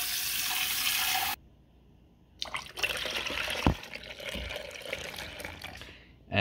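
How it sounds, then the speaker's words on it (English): Cold tap water pours into a container of concentrated bubble solution mix, a steady splashing rush broken by a short pause before a second pour, with dripping and liquid sloshing near and fairly loud. "Now let's do our 4 cups of water"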